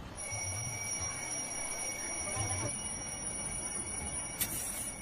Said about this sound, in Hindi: घंटी बंद कर यार।